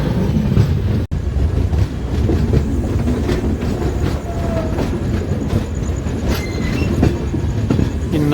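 The Jhelum Express rolls into a station at night, loud and close, with a continuous rumble, rhythmic clatter of wheels over rail joints and occasional high squeals of wheels.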